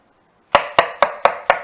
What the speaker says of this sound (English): Chop that up into your blender.